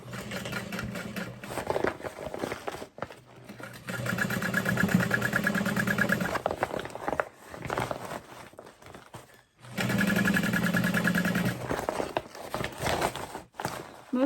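Sewing machine top stitching a vinyl bag lining hums in two steady runs of a few seconds each, close and moderately quiet, separated by handling and pauses.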